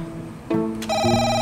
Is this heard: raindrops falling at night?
no